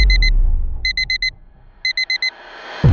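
An electronic alarm clock beeps in three bursts of rapid, high-pitched tones, four beeps each, with low rumble between bursts and a thump at the end.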